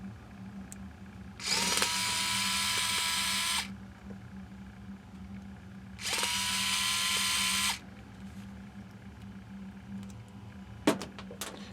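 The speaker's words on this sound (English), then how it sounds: "We're going to disconnect these two screws here." A power tool removes screws from the motor mount of a Redcat RC crawler with two separate whirring bursts of about two seconds each, loud and close, then a sharp click near the end.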